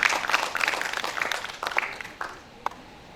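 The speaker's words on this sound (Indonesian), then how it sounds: "Kita berikan tepuk tangannya dong untuk teman-teman hari ini yang sudah hadir" Audience at an arts and culture seminar clapping, a moderate burst of applause that thins quickly into a few scattered claps and fades out.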